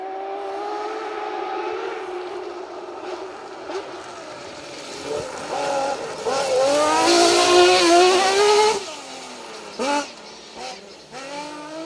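A rally car engine on a Roger Albert Clark Rally 2023 stage wails and revs at speed, pitch climbing and falling through gear changes, growing louder as it passes close, then fading with brief blips.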